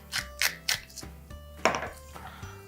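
A spoon works a goat cheese filling in a bowl with a series of quick clinks and scrapes against the sides, a few sharp knocks in irregular rhythm, close and fairly quiet.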